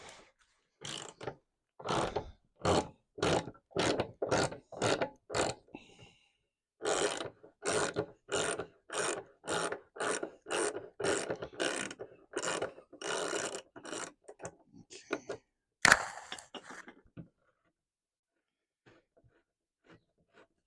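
A ratchet backs off a 19 mm bolt on a BMW K100 motorcycle, with steady rapid rows of close ratcheting strokes and a brief pause midway, then one sharp clack before things fall quiet.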